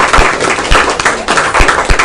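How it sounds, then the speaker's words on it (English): A small lecture audience gives a speaker another round of applause: a few loud, separate claps close to the microphone in an uneven rhythm. "let's give Jenny another round of applause"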